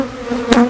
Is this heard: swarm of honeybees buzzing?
yes